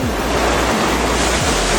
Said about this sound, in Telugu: మనం చివరకు వాటర్ ఫాల్స్ వచ్చాం ఫ్రెండ్స్.